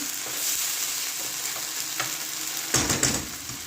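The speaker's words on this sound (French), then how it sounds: "je rajoute ici un petit peu de sauce tomate. Voilà, comme ceci, je mélange de temps en temps" Minced meat with tomato sauce stirred in a frying pan, a soft steady sizzle with a few scraping spoon strokes and a louder burst of stirring near the end.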